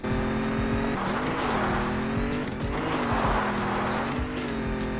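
Rally car engines in the 90s-style racing game Old School Rally, a steady droning engine note rising and falling with gear changes, with tire squeals and skidding throughout, loud and continuous with no talk.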